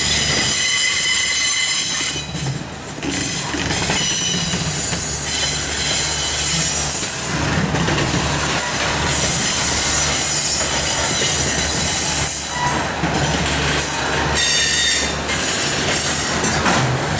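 A CSX freight train with refrigerated boxcars rolls past at Mount Holly, loud and close, with steady wheel rumble, clattering rail joints and high, sustained wheel squeal ringing over the whole passage.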